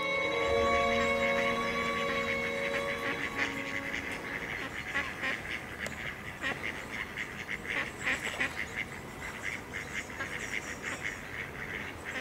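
Several mallard ducks quack and squabble at a waterside, with loud harsh calls overlapping in a busy, rapid chatter that rises and falls throughout.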